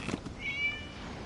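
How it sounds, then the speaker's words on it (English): A cat meows once in the Genshin Impact video game, a short, fairly quiet mew. "It was just a cat."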